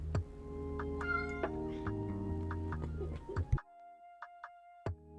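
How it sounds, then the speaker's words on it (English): A cat meows a few times, close and fairly clear, over a steady background of tonal electronic sounds and faint ticking. "you guys know my co-host, Shaka, the On My Nerves cat"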